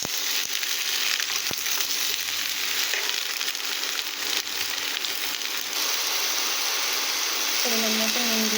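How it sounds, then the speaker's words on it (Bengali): Ridge gourd and fish frying in a pan, a steady broadband sizzle filling the whole stretch with faint scraping underneath and a brief tonal beep near the end. "এটাকে ভালোভাবে কষে নেব। যে জলটা বার হবে সেটা শুকিয়ে নেব।"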